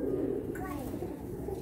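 Open-eyed pigeons of medium size coo in low, throaty pulses, a steady murmur close by with a brief higher note partway through.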